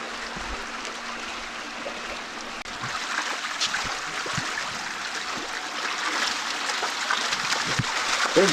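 Water trickling and flowing out through small grates in Alaska, a soft continuous babble with light splashing detail that grows slightly louder, no voices over it.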